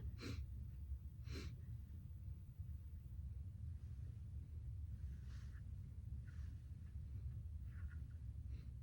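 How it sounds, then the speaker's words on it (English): A patient breathes deeply during a lung exam in a head-to-toe nursing assessment: two short, sharp breaths close together at the start, then fainter, softer breaths over a low steady rumble. "Take a deep breath."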